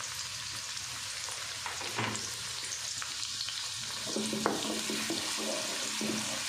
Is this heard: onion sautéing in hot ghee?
yes